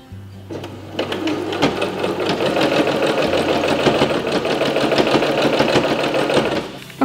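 A sewing machine hems the edge of a linen tea towel, running in a fast, steady mechanical clatter for several seconds before stopping, close and loud with no talking.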